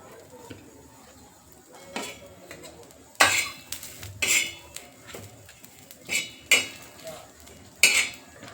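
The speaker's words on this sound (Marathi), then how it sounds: "त्यात आपण पहिले मिरच्या भाजून घेऊया हिरव्या. त्यात आपण खोबरं टाकून घेऊया." Green chillies and coconut roasting in a pan over lowered gas for a fish curry, heard as a string of sharp metal spatula clinks and scrapes against the pan at an irregular pace, close and fairly clear, with no voices.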